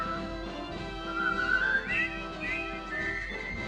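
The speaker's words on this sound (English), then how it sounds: "I hear it. It's the whistling." A person whistles a jaunty march melody, clear and close, with bright notes rising and falling for a few seconds.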